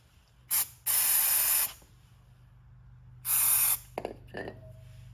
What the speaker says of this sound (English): I will give it a spray of brake cleaner